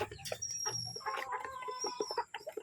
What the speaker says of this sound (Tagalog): Nakakatuwa naman ang mga inahin.